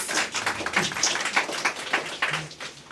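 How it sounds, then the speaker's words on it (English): Audience applause at an environmental awards ceremony, steady moderate clapping from a crowd lasting throughout, fairly even and unbroken. "Let's give her a round of applause as she comes."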